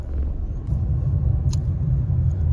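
Steady low rumble of road traffic, cars droning past nearby with a brief higher-pitched hiss midway.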